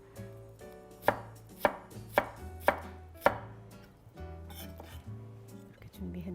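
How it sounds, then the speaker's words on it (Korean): A knife slices green bell pepper on a cutting board with five crisp, evenly spaced chops, followed by softer scraping and handling sounds, close up against a low background hum. "여기에 피망도 마찬가지로 이렇게 썰어 주시면 돼요"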